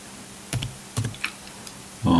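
Typing on a computer keyboard, a few separate close key clicks in a quiet room, with a brief louder burst at the end.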